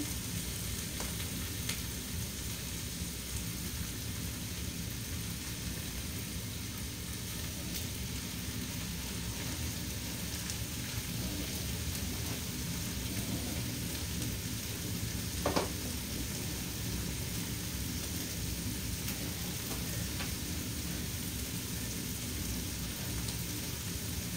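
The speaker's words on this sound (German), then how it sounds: "die Rindsrouladen, die werden jetzt von allen Seiten angebraten" Steady sizzling hiss of beef rolls searing in a hot pan, constant and moderately close, with a faint clink partway through.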